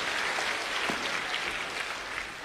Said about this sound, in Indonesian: Tepuk tangan untuk Romo Effendi